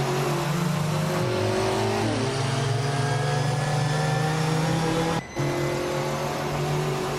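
Open-wheel race cars, including a 2000 Formula V, launch off the grid at Deep Forest Raceway Reverse in a racing video game, with engines droning loud and close, pitch climbing through gear shifts and a brief cut near the end.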